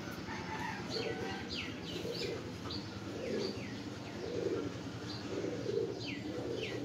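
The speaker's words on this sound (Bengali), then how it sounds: "অনেক অনেক বড় পাখার একটা কবুতর" Low pigeon cooing repeats in soft rhythmic phrases among several birds, with chirps and other fowl calls mixed in, moderately close and fairly quiet against a steady background hum.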